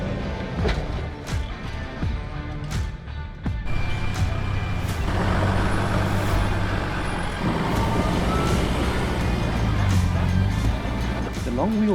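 A Toyota Fortuner's engine drones steadily as it crawls over a rocky obstacle on the John Rock 4x4 trail. The low rumble rises and stays loud through the second half, with occasional clunks and people talking over it.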